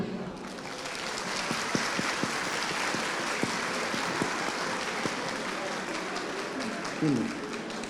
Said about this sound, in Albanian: ju lutem kërkoj ju duartrokitje